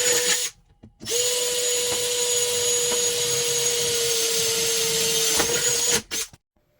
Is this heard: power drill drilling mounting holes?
yes